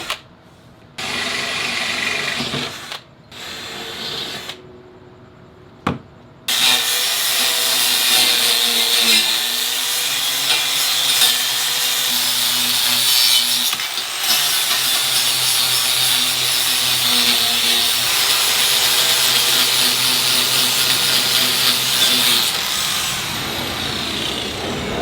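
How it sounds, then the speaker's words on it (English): A power drill bores bolt holes through a steel frame on a workbench, whining loud and steady for about twenty seconds after a few short stop-start bursts. "I'm going to drill those bolt holes off of the frame."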